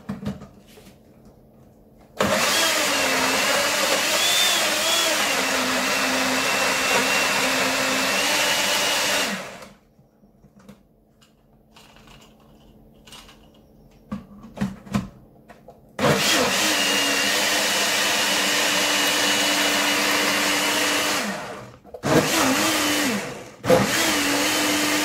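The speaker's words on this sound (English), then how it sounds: "So now I'm gonna blend them all together and see what I get." A kitchen blender purees thyme, onion, pepper, scallion, garlic and ginger into jerk seasoning for pork ribs, running loud and steady in two long bursts separated by quiet handling clatter, then a final short pulse.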